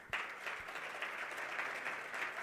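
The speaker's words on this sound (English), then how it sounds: "I think they deserve a huge round of applause." Applause from a conference audience at a national green hydrogen event, fairly faint and distant, a steady patter lasting a couple of seconds.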